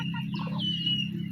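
A chicken clucks near a house garden, a few soft close clucks over a steady low hum.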